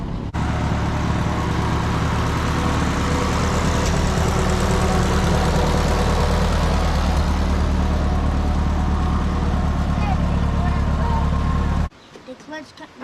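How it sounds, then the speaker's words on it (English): An old farm tractor engine runs steadily with a deep, continuous low rumble that stops abruptly near the end, with faint voices present in the background. "The clutch starts the engine."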